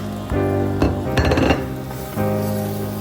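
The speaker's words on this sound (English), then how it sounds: "Now add the roasted shrimps." Roasted shrimp going into a pot of coconut rice, heard as metallic clinks and scraping of a utensil against the pot, with a busier clatter in the middle and a steady low hum underneath.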